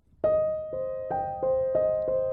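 With the sustain pedal held down, a piano plays a short series of chords in an even rhythm. The notes ring on and blend into one another.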